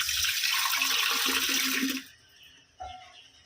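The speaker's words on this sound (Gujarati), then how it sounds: "હાથ ધોવા જ નળમાંથી પાણી ભરી લે" Water pours from a tap, a strong steady gush for about two seconds that then cuts off, followed by near quiet and a brief clunk.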